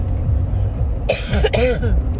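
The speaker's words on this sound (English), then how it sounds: "Sorry if I'm still gonna cough" Two sharp, close coughs in quick succession over a low rumbling background hum.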